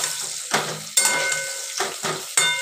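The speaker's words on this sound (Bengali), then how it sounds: "আর এদিকে দেখো আলু ভাজা হয়ে গেছে" Potatoes fry in a pan, a loud, close sizzle broken by several sharp stirring scrapes at roughly half-second intervals, with no voices.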